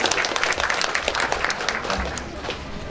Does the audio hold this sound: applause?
yes